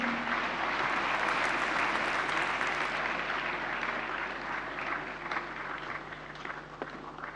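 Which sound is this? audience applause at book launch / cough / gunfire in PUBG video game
audience applause at book launch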